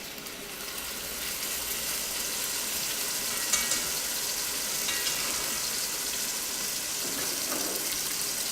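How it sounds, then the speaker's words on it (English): Pork steaks frying in hot oil in a pot, giving a steady, close sizzle that runs the whole time, with a few faint clinks and stirring sounds on top. "You can hear that sizzle right away when you put it in the pot."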